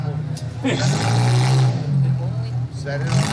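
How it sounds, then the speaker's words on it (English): A race car takes its victory lap at the Simcoe derby, its engine holding a steady, loud drone with some rising revs near the end, over constant outdoor background noise. "Racing along with the Crazy 8 crew right there, taking his victory lap"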